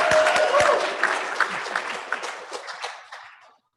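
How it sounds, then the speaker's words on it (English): A room of attendees at a Kiwanis Club meeting breaks into applause, full and steady at first, then thinning to scattered claps before fading out to silence. "Let's give Joe a round of applause."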